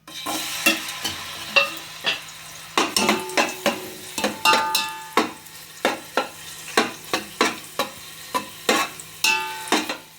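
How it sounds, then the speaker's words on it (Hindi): Raisins roasting in a pan for carrot halwa, heard as a quick series of sharp scraping and clinking stirring strokes against the pan over a faint sizzle, loud and close with short gaps between strokes. "तो किशमिश भी देखिए भुन गई है"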